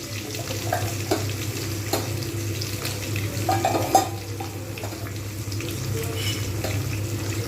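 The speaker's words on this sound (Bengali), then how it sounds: "পেঁয়াজগুলো আমি কিন্তু ভালোভাবে লাল করে ভেজে নেব" Onions sizzle and fry in a pan for a Bengali chicken curry, a steady moderate hiss with occasional stirring clicks and scrapes close by. No one speaks.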